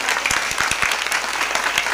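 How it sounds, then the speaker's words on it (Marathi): An audience at a kirtan during a Navratri festival gathering breaks into loud, sustained applause, a dense wash of many hands clapping at once. "या मंडळासाठी एकदा जोरदार टाळ्या वाजवा"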